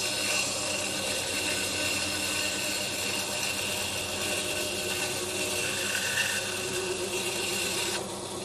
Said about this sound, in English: Next, cut the slot in the faceboard for the guard.